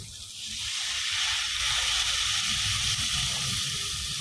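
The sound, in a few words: water poured into frying spice paste for fish curry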